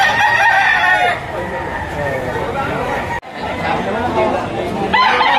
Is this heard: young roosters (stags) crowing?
yes